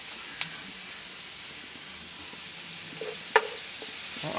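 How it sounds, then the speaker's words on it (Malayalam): Onion, garlic, ginger and green chilli sautéing in a pan for a Kerala-style pepper fish fry give a soft, steady sizzling hiss, fairly faint, broken by a couple of small clicks from stirring. "പച്ചമണമൊക്കെ മാറുന്ന ഇടം വരെ നല്ലപോലെ വഴറ്റുക"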